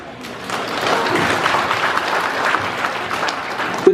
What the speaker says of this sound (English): I think your parents deserve some rounding of applause.